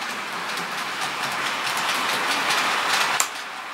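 TT scale model freight train running along the layout track, a steady close rolling rattle with soft clicking over rail joints and no talk.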